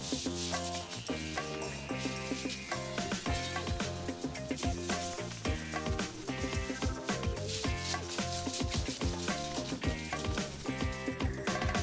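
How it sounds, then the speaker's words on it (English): A red scouring pad scrubs stuck-on grease and dirt off a glass stove top, producing a continuous close, gritty rubbing with irregular back-and-forth strokes and no voices. "start to scrub all the dirt and stuck-on grease off of the stove"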